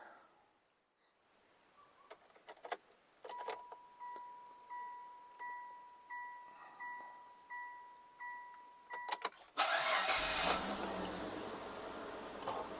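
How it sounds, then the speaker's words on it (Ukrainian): A Mitsubishi Pajero III comes alive: a steady electronic tone and regular ticking pulses give way to a sudden loud, continuous roar as the engine catches and keeps running nearby. "Запускаємо двигатель"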